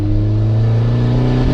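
A 1994 turbo Mazda Miata engine pulls at about half throttle near 4,000 RPM in second gear, a loud, close, steady drone with a slight roughness, ending abruptly.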